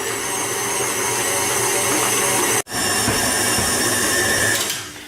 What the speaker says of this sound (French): Donc ma pâte est en train de pétrir